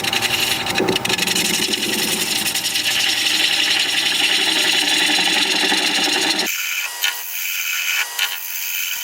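A wood turning tool is sharpened in a woodturning shop, giving a continuous abrasive grinding and rasping sound. It stops abruptly near the end, leaving faint scraping knocks.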